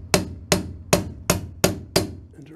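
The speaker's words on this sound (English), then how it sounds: "take a hammer" Six sharp hammer strikes on a car's side mirror mount land at a steady rhythm, each ringing briefly before the next blow, close and loud.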